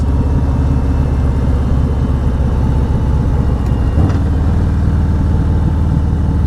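A car engine braking on a steep Texas Hill Country descent, a loud steady low drone with a slight shift in pitch partway through, continuous with no voices.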